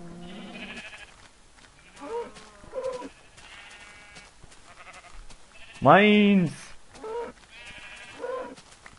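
A Minecraft sheep bleats in the game: a couple of softer bleats, then one loud, wavering bleat near the middle. German players talk and exclaim around it.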